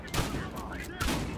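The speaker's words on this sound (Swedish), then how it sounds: "Tre skott." Rapid bursts of gunfire from the video game Battlefield Hardline, a quick volley of loud shots followed by a second burst a moment later, dense and close.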